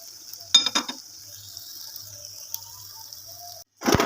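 Potato omelette frying in a pan, a steady quiet sizzle with a few clinks and scraping stirs near the start and a louder clatter at the end.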